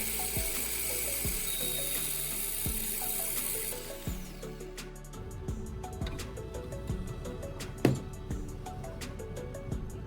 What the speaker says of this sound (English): First, I cut off the hexagonal section at the end of the screw.